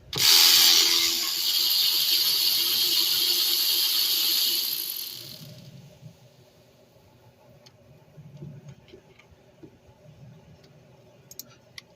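Ratchet work on the alternator bolts of a 2013 Kia Sorento, opening with a loud hissing mechanical burst that fades after about five seconds into a quiet hum with faint clicks.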